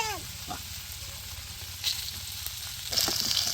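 Potatoes sizzle and crackle steadily as they fry in hot oil, close up, with faint voices and occasional clinks in the background.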